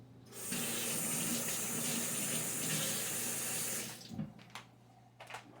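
Tap water runs steadily into a sink during handwashing for a few seconds, then cuts off, followed by faint splashes and dripping.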